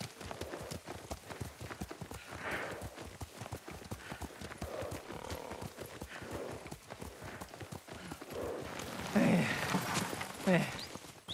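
A horse's hooves clip-clop in a steady rhythm as a rider travels in the video game Ghost of Tsushima, close and continuous, with voices talking over the hoofbeats and a louder stretch near the end.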